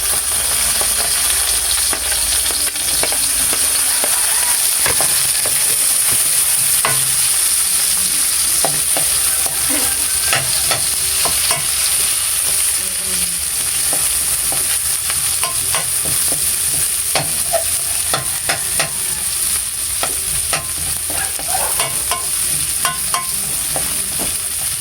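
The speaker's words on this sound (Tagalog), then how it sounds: "Lagay na po natin ang sibuyas." Onions fry in oil in a pan for pork adobo, a loud steady sizzle with frequent scraping and clinking of a utensil as they are stirred, and no voices.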